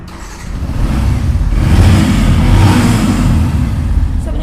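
A second-hand motorcycle engine revs loud and close at a bike showroom, a steady throaty roar that swells and holds throughout.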